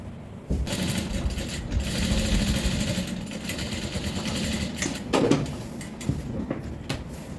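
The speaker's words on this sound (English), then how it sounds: "So I'll go ahead and stitch this down." A sewing machine stitches down a rope tote bag, starting abruptly and running in a loud, steady whir with slight shifts in pace as the seam is sewn.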